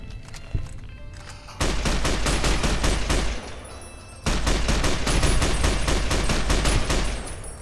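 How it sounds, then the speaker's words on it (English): The All-American rifle in Fallout New Vegas fires two long rapid automatic bursts, loud and close, with sharp evenly spaced shots separated by a brief pause. "I love this gun so much. The All-American."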